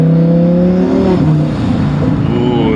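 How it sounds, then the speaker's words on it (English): A twin-turbo 1000 hp Lamborghini accelerates hard, its engine note rising in steady harmonics with a continuous loud roar and whir heard from inside the car, with no talk. "Ooh, the turbo noise."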